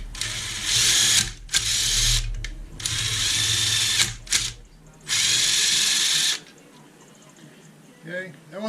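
A tool is run through greased bolt threads to clean them, giving loud whirring bursts in several stop-start runs. It ends with quieter clicks and squeaks.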